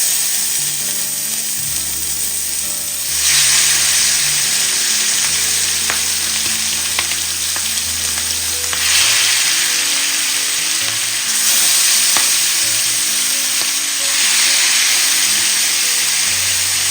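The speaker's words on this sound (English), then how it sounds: "after the chicken is marinated, you just add some oil to a pot, and then we just transfer the meat inside the pot" Marinated chicken for Jamaican brown stew chicken fries in oil in a pot, a loud steady sizzle with bursts of crackling as the meat goes in, close and continuous.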